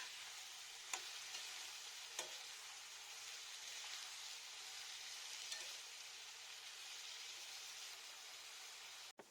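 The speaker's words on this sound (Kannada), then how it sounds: "ಇವೆಲ್ಲವನ್ನ ಸ್ವಲ್ಪ ಹೊತ್ತು ಬಾಡಿಸ್ಕೊಳ್ಳೋಣ." Tomatoes and onions sautéing with salt in a pan for shavige uppittu (vermicelli upma), a steady close frying sizzle with a few brief stir clicks and no talk.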